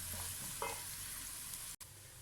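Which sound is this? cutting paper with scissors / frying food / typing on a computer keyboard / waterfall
frying food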